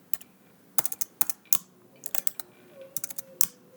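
Someone types on a computer keyboard, with quick clusters of crisp, close key clicks spaced irregularly and a few louder taps, against a quiet background.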